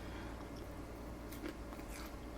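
Quiet, close chewing of crunchy fried jackfruit with soft crunches and moist mouth sounds, steady over a couple of seconds with no talking.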